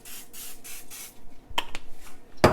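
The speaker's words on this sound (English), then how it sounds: "And then I'm just going to hit it with a little bit of the spray oil." Spray oil misted over a pan of onions set to caramelize, several short hissing bursts in a row close up, followed by a couple of clicks and a sharp clatter.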